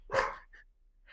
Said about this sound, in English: Excuse my dog coming outside.